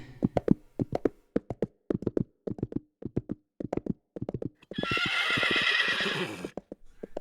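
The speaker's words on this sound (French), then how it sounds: "Tout d'un coup, il entendit des cavaliers arriver de l'autre côté." Riders' horses arrive with a brisk, rhythmic clip-clop of hooves. Partway through, a loud, drawn-out neigh rises over the hoofbeats before they continue.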